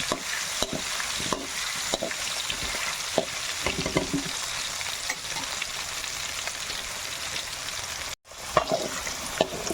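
Potatoes with turmeric fry in a pan with a constant crackling sizzle, punctuated by scrapes and clinks of stirring, close up and moderately loud.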